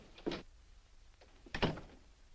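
An office door in a 1949 black-and-white film opens and then closes, giving two soft, close thuds about a second apart over a quiet room hush.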